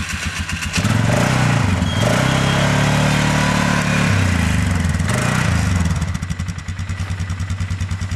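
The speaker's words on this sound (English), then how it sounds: "We're going to show you how easy it is for him to start and ride this machine." 500cc full-size adult quad starting and riding, its engine catching with a thumping idle, revving into a loud sustained drone, then dropping back to a pulsing idle, close by.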